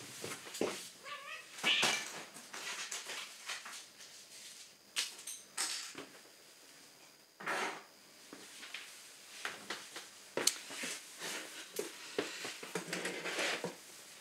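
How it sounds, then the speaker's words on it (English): A house cat meows repeatedly indoors, with several close, uneven calls and small household clatters and shuffles between them. "My cat, sorry."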